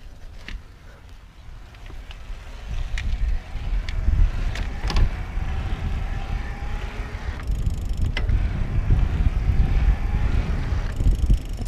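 A Bulls Six50 E2 electric bike climbs a big hill in turbo mode, its motor giving a steady low drone under wind and road rumble, with no voices.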